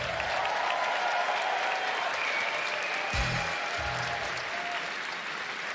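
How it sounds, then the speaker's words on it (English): A large crowd at a Dota 2 esports event applauds cosplayers, loud sustained clapping filling the space, with a few low thumps and faint tones beneath. "let's have a round of applause for all of our amazing cosplayers"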